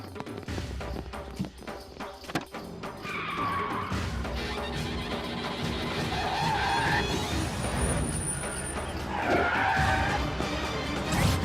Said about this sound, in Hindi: गाड़ी निकालो, आज उस कालिया पांडे का भूत उतारना है।